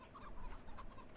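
A short burst of chicken clucking from the video game CS:GO, a few quick choppy clucks at moderate level over faint background noise, with no one talking.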